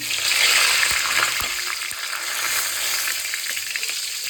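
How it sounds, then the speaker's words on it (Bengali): Whole spices dropped into hot oil already used for frying papaya, giving a loud, dense, close sizzle that holds steady throughout, with a few clicks of a utensil and no voice. "ওই একই তেলে আমি যা যা বললাম গোটা মশলাগুলো সব দিয়ে দেবো"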